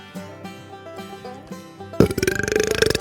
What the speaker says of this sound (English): I can belch on cue, both in and out.